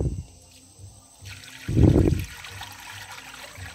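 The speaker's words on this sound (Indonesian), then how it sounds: "kita masukin lagi ini encernya, ini namanya karet encer" Liquid rubber latex pours into a tub in one brief, close, splashing gush, surrounded by quieter trickling and faint background noise.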